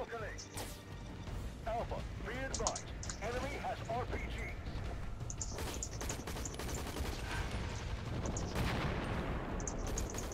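Rapid M249 light machine gun fire in a zombie shooter game, dense crackling shots and impacts running continuously under excited speech and game noise.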